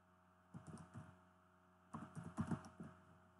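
Two short bursts of typing on a computer keyboard, quick soft key clicks heard close up in a quiet room with a faint background hum.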